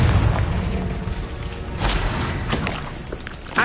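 Confringo blasting spell explosion in the video game Hogwarts Legacy, a loud booming burst with rumbling low end, followed by a second thud and crackling debris, heard alone without talk.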